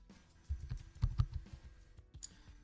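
Keystrokes on a computer keyboard while laying out a food flyer, a short irregular run of soft clicks and taps, close and fairly quiet, with no talking.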